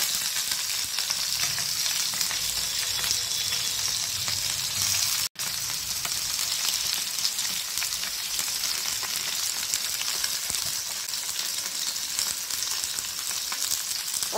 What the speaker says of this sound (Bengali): এইবার আমি ক্যাপসিকুলো দিয়ে দিচ্ছি।